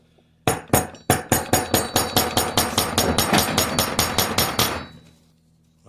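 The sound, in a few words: hammer tapping on an SKS rifle bolt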